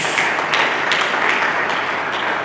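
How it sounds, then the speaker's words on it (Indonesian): A church congregation breaks into continuous applause, a dense even wash of many hands clapping at once that holds steady at the same loudness the whole time. "Mari kita berikan tepuk tangan bagi Yesus Kristus."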